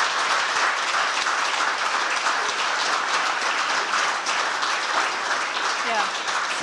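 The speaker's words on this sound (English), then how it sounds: "Big round of applause, please, for Fiona Easterby." Warm applause from an audience at a travel talk, a continuous dense clatter of many clapping hands, loud and sustained with no voices breaking through.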